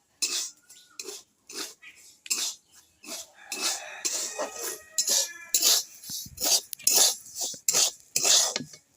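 Salt dry-roasting in a pan, stirred with a metal spoon in repeated short scraping, rattling strokes, close and fairly loud with brief gaps between strokes, no voices.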